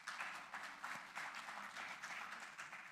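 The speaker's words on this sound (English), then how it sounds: "round of applause." Applause from the audience at a blue economy conference in Africa, a steady wash of many hands clapping at moderate distance, rising and falling in waves with no talk over it.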